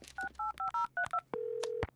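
A telephone number is dialed by touch-tone keys, about seven quick dual-tone beeps in a fast uneven rhythm, then a longer steady tone, close and clear.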